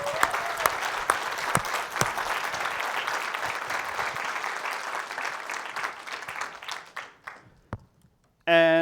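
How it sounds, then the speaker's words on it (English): A conference audience at a security event claps in sustained, even applause that fades out near the end, followed by a brief voice. "huge round of applause for our sponsors"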